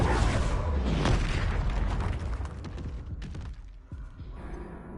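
A Confringo blasting spell in Hogwarts Legacy goes off as a loud, rumbling explosion that fades over several seconds, with no talking.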